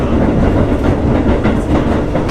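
A train rumbles steadily close by in Japan, a continuous low roar with faint rhythmic clatter and no voices.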